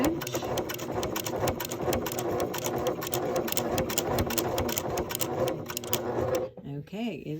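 A sewing machine back-stitches through upcycled denim for a double-pocket jeans purse, a steady close rapid whirring rattle running continuously before stopping abruptly near the end, followed by a brief voice.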